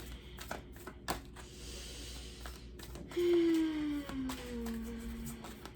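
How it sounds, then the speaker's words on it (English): Soft papery flicks and riffles of tarot cards being shuffled by hand, quiet and close, with a faint tonal hum partway through. "let me shuffle through this a bit and see if one more card wants to come out"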